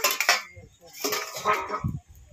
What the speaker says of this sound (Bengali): দু মিনিট ঢাকা দিয়ে রেখেছিলাম, এবার ঢাকাটা তুলে নেব